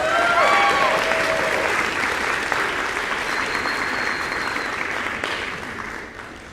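Sustained audience applause for award recipients at a university school of music spring convocation, a dense even wash of clapping that slowly fades toward the end, with a few faint voices mixed in.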